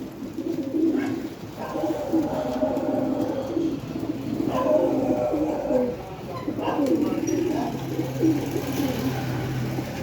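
Pigeons kept for sale at a bird market coo repeatedly in low, throaty pulses, a steady layered chorus close by with a faint murmur of background noise and voices.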